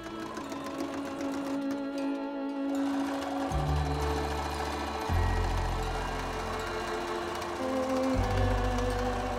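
A sewing machine runs steadily with a continuous mechanical whir that shifts in pitch and speed across several stretches, close and alone without talk.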